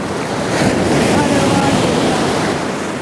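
Steady broadband roar of sea waves and surf close to a seaside Kalari martial arts training ground, continuous and fairly loud, with wind buffeting the microphone throughout and no talking.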